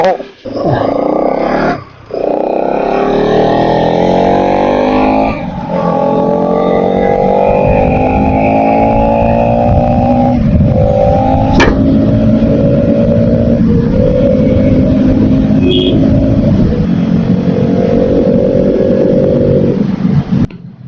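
A Bajaj Pulsar NS 200 motorcycle engine hums and rises in pitch while riding, going steadily up through the gears with wind noise. Someone talks loudly over it most of the way.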